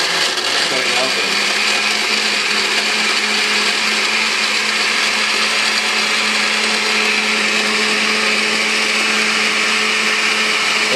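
Chocolate for mousse whirs in a blender in one continuous, loud, even grind that holds for the whole stretch with no pauses.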